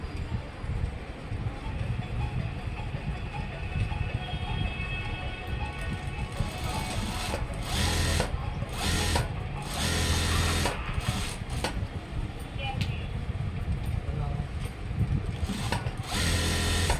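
A sewing machine runs steadily while stitching a school uniform chudidar coat, its motor buzzing close and continuous with short pauses and bursts near the end.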